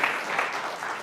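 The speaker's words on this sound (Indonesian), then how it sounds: "Mau tepuk tangan buat penciptanya" A church congregation applauding during a sermon, a dense and even patter of many hands clapping at once, moderately loud and heard without other sounds.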